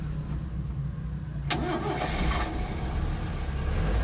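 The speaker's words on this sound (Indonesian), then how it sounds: "Nah ini untuk mesinnya, satu kali starter langsung cek kur ya." A car engine cranks and catches on the first try, a short starter burst followed by a steady, quiet idle close by.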